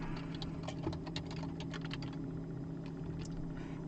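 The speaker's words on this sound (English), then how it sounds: "I'm typing so quickly, I'm making" Rapid typing on a computer keyboard during a world-building session, a dense, uneven patter of light key clicks at close range, fairly quiet, with no talking.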